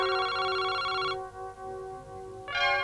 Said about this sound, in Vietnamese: Có điện thoại để tôi nghe.